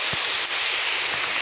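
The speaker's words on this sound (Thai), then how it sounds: "ฝนก็ตก" Rain falling outdoors in Thailand as a dense, steady hiss of drops hitting surfaces, continuous and fairly loud with no voices.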